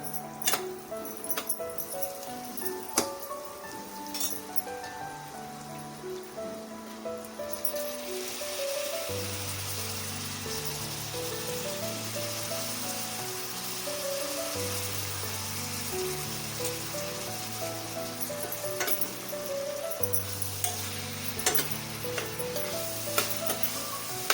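Snake gourd sliced as a vegetable for a Maharashtrian dish with field bean dal, dropped into a hot pan, then a steady, close sizzle of frying that continues evenly with soft stirring scrapes.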